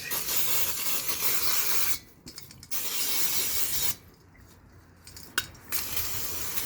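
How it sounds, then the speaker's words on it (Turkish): Long, loud bursts of brake cleaner aerosol spray hiss on motorcycle front brake pads, broken by short pauses and a few faint clicks, close up with no talking. "Bütün yağlardan arınmak için en son balata spreyi güzel olur."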